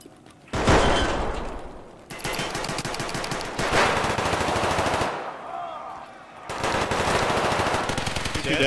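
Sustained full-auto gunfire in the shooter game Tarkov: Arena, loud and close, with long rapid bursts broken by short pauses, plus faint talk mixed in.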